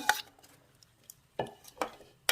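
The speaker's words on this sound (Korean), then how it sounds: "아까 무 썰어 놓은거 이게 400g인데요. 이것도 다 넣고" Sliced radish tipped into a pot of Korean beef and radish soup, a few sharp clattering knocks against the pot with short gaps between them, close and fairly loud, no talking.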